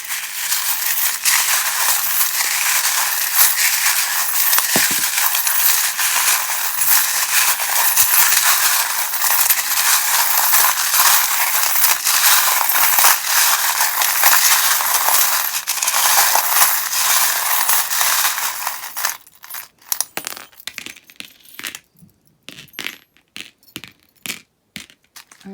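Tarot cards are shuffled rapidly in a long, dense run of crisp riffling and slapping. About twenty seconds in it breaks into slower, separate card snaps and taps with short gaps between them.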